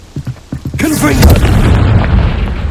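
A Confringo explosion spell cast in Hogwarts Legacy: a few quick popping bursts, then one loud booming blast that rolls into a long, rumbling crackle of debris and fire, close and heavy.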